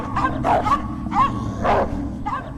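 Dogs bark in short, separate bursts, five or so yips and woofs spaced unevenly over a steady low hum, fairly close and with no talking.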